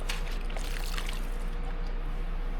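A Dream Mat sluice mat being rinsed and swished through water during gold prospecting, giving a continuous close pouring and sloshing rush with no voices.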